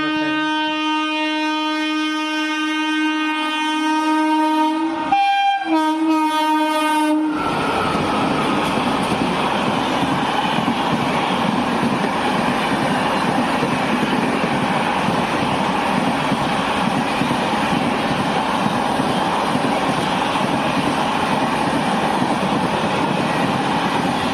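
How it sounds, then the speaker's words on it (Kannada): A train horn sounds in long steady blasts, then a loud continuous roar and rattle as the Yesvantpur–Jaipur express train rushes past close by without stopping. "ನಿಮಗೆ ಇದು ಎಕ್ಸ್ಪ್ರೆಸ್ ಟ್ರೈನ್ ತೋರಿಸ್ತೀನಿ."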